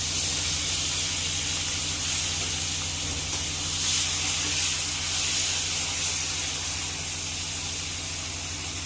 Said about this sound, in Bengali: চিংড়ি মাছটা ভালো করে ভেজে নিচ্ছি।